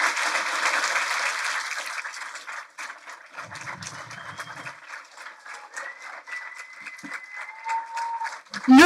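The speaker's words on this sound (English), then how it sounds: "So give yourselves a big, clap." Applause from a graduating veterinary class and guests at a white coat ceremony, dense and steady at first and then thinning to scattered claps as a voice speaks briefly over it.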